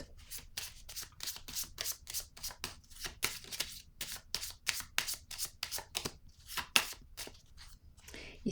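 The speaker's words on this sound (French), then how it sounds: "Je vais déposer une autre carte." Tarot cards are shuffled, handled and laid down on a table in a steady run of crisp, close slapping and riffling strokes, with faint talk in the background.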